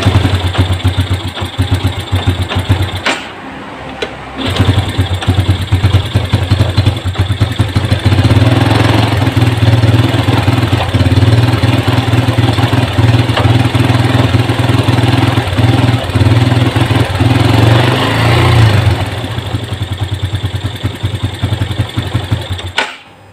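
A Yamaha Jupiter Z1 motorcycle idles loudly and steadily close by after a kick start, with a brief dip near the start where the engine nearly cuts out before running on with a continuous low chugging throb.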